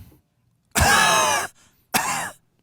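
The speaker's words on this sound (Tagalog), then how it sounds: "Ubo ko nga." Two harsh, loud coughs burst out close by, the first lasting most of a second and the second shorter after a brief pause, with no talking.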